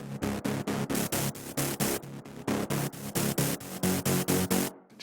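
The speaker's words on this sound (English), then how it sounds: "another important part of the sound is this bright white noise" A synth patch from a remake of Louis The Child's Big Time with a bright white noise layer, heard as a fast train of rhythmic noise bursts pulsing in even steps, crisp and hissy, ending in a brief gap.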